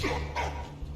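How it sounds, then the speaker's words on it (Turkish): The dog in the World War I game Valiant Hearts gives a couple of short, moderately loud barks over a constant low in-game drone. "Köpek havlama dur sakin ol"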